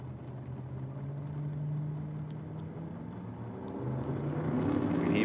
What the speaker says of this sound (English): You can hear Pisolides building boost